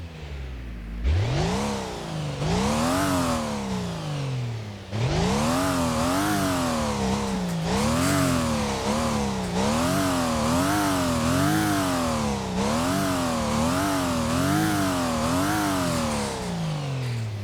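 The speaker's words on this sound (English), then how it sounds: "And I do revving of the engine." An F1 V6 engine revs in the game Stormworks, one long rising rev and then a run of rhythmic up-and-down throttle blips, loud and clear with no voices.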